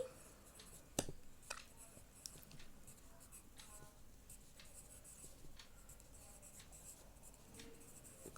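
A pen writes numbers on paper while a bar graph is being drawn, giving faint, close scratching strokes with a sharper tap near the start and a soft steady background hiss.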